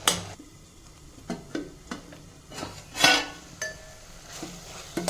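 Amaranth leaf and tomato curry stirred in a pot, with a spoon scraping and clinking against the metal in scattered knocks over a quiet simmer.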